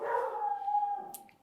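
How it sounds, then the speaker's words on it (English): A pet dog lets out a single drawn-out howling bark, fairly close and loud, trailing off into a brief yip at the end, with no talking. "Sorry, that was my dog."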